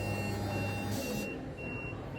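A high electronic warning beep from an AL-KO caravan leveller repeats in short, evenly spaced pulses over a low mechanical hum, fairly close, while the leveller moves.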